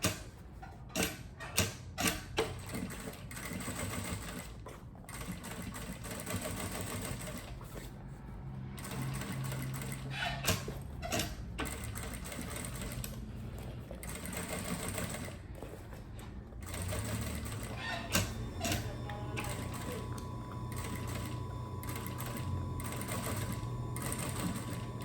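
Close-up sewing machine stitching a seam on a fabric pouch, with a rapid mechanical whir broken by short stops and restarts over a long stretch, plus some light ticking.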